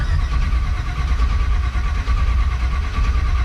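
A 1969 GMC truck engine cranks over on the starter with no fuel supplied, a loud, steady, close churning drone that runs without a break and never catches.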